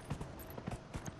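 Horse hooves from Dragon Age: Inquisition, several uneven clip-clop hits over about a second at a quiet, steady level amid the game's background sound.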